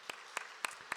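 Four sparse, evenly spaced claps ring out quietly from a church congregation at an early-morning Holy Week prayer service, each sharp and brief against near silence.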